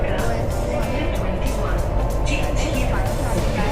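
A loud, steady rumble and roar of a moving Delhi Airport Line metro train, continuous throughout, with faint voices blended into the noise.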